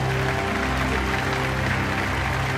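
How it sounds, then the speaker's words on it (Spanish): A church congregation applauds loudly and continuously, a thick, steady wash of clapping and cheering with a low musical hum underneath. "Un aplauso al Rey de Reyes y al Señor de Señores."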